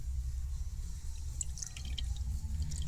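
Milky water drips steadily as soaked ground corn is squeezed by hand to make corn flour, a soft continuous patter of small drops close by with no talking.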